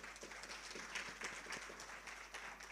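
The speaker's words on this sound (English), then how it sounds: "Can you clap hands for yourselves?" An audience applauds in a meeting room at the close of a provincial dialogue session, with a dense, steady patter of hand claps lasting a few seconds at moderate, slightly distant level.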